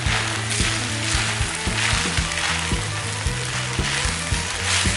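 Glass noodles and fried summer vegetables stir-fried in a pan, a steady loud sizzle with repeated scraping and tossing strokes of the utensil against the pan throughout, no talking.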